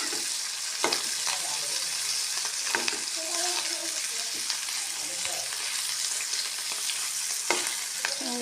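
Fish pieces and egg fritters fry in hot oil, giving a steady, dense, close sizzle that runs unbroken, with occasional sharp pops and a few light knocks of a utensil.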